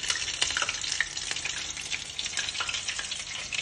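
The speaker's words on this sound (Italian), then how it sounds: "Sto friggendo gli ultimi classici," Genoese frisceu fritters sizzle steadily in hot oil, a dense, continuous close-up crackle with small bright pops throughout, with no voices.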